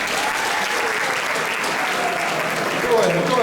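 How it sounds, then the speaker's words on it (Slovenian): Audience applause at a stand-up comedy show in Rožna dolina, a steady loud wash of clapping from a live crowd filling the whole moment. "Pa dajte zaploskati tisti, ki ste naredili drugo izpit za avto."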